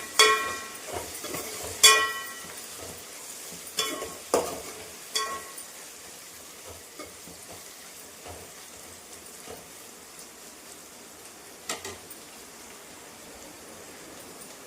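Okra fries with curry leaves and turmeric in a pan, a soft steady sizzle broken by a few sharper crackles and utensil knocks early on.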